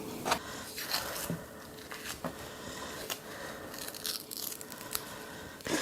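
Dry onion skin being peeled off by hand while preparing a Cajun jambalaya, a run of close, soft tearing and crinkling sounds with brief crunchy snaps, no talking.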